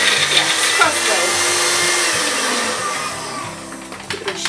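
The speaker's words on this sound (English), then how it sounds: "I thought that would be the one that would grind it small." An electric cross-blade coffee grinder whirs loudly and steadily for several seconds, its motor pitch shifting slightly as the contents break down, with a faint voice in the background.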